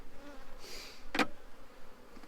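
Honey bees buzz softly around a hive during a transfer into an Apimaye hive, a low ambient hum broken by a single insect zipping sharply past the microphone near the middle.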